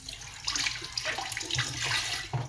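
Ginger and chili peppers rinsed under a running kitchen tap, a steady splashing stream of water with shifting spatters as the pieces are turned by hand, close and alone.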